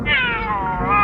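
A pet cat named Cleopatra gives a single drawn-out meow, loud and close, with a smooth falling then slightly rising tone lasting about a second.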